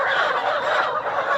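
Layer hens in a poultry shed in Panchagarh during a delivery of about 1,100 birds, giving a continuous dense chorus of clucking and squawking, close and fairly loud throughout with no speech.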